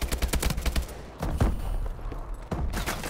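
Gunfire in Call of Duty: Advanced Warfare, a rapid, close burst of automatic shots, then a short pause and a few more sharp cracks, loud and with no talk.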